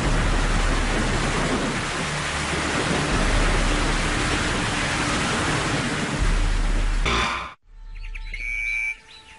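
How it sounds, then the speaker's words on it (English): Steady, heavy rain pours down across the African savannah in a dense, continuous hiss, with a low rumble underneath, then breaks off abruptly near the end as faint bird calls come through. "Rains wash down, restoring life to the savannah and its residents."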